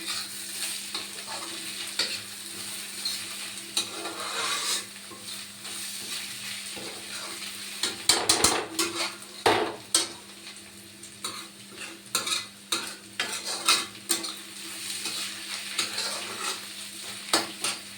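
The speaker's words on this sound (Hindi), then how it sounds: "प्याज मेरी भून गई है, ज़्यादा लाल नहीं करनी प्याज।" Onions frying in a pan while being stirred, a steady sizzle broken by scraping spoon strokes that grow busier midway, close and fairly loud with no talking.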